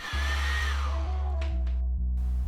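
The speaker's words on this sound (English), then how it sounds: "Using a hairdryer, heat the display surface for 1 or 2 minutes." A hair dryer blows hot air onto an iPhone XR display to soften the glue, a loud steady motor whir running close and alone for the whole stretch.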